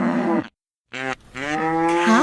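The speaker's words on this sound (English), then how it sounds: "Cow." A cow gives two loud, close, drawn-out moos separated by a short silent gap, the second one long and sustained, with no other sounds.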